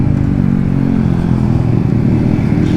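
A Yamaha MT-15 motorcycle fitted with an Akrapovic exhaust drones loudly and steadily up close at a constant engine note, a rough low rumble with no talking.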